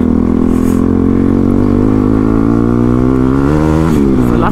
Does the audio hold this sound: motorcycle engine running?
yes